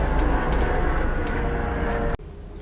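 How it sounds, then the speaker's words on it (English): A helicopter passes overhead, a loud, steady rumbling drone with a broad roar that holds constant and then cuts off abruptly near the end. "There's an helicopter going over."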